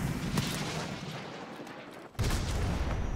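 A Stinger missile launcher fires at a helicopter in a modern military shooter game, a dense roaring blast and rumble that fades then returns with a sudden loud burst near the end, with no talking.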